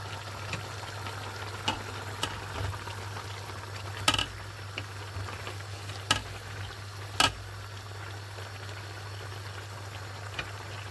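A pot of fish and meat simmers for Nigerian vegetable soup, a quiet bubbling bed with a low steady hum and scattered sharp ticks and clinks, no voices.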